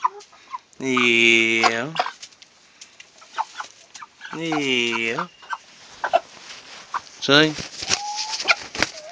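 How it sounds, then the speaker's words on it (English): Large Cornish chickens on the roost let out loud, drawn-out squawking calls twice, then a shorter one, with soft clucks and rustling close by while someone speaks briefly. "There's some big ass Cornish chickens."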